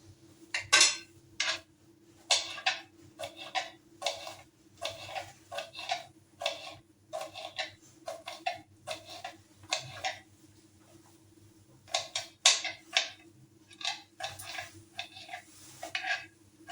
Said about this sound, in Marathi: शेंगदाणे छान आपल्याला भाजून घ्यायचे.